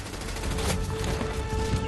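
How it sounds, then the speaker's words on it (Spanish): German machine gun fire in a WWII battle documentary, a continuous loud rattling fusillade of rapid bursts sustained throughout. "Los que manejaban las ametralladoras atacaron al grupo aislado de soldados que quedó atrapado a mitad de camino"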